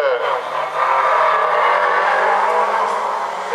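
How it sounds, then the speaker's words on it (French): A Peugeot 205 GTI arrives at a slalom finish, its engine a loud, sustained drone that holds steady for several seconds while a commentator talks over it. "L'arrivée également de Christophe Jacquet à l'instant par Victorien Rickling, le pilote de la 205 GTI."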